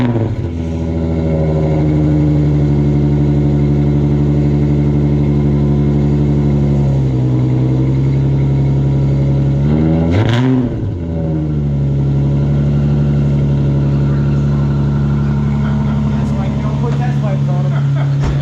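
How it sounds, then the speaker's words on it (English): Nissan G35 engine fitted with a new exhaust and a Z1 clutch and lightweight flywheel, idling loud and steady close by, with a brief rev burst midway before settling back to a deep drone. "That's the new exhaust setup."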